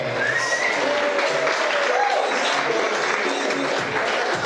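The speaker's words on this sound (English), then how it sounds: "let us give them a big round of applause" Wedding guests give the newlyweds, Mr. and Mrs. Noel, a round of applause: steady clapping and crowd noise fill the whole stretch, with voices and a tonal line drifting through underneath.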